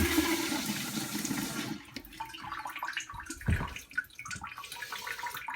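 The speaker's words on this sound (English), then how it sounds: "I'm gonna turn the water back on." A Delta Flush IQ toilet refills after its water supply is turned back on: a loud, close rush of water for about two seconds, then it cuts off, leaving quieter handling clicks and knocks.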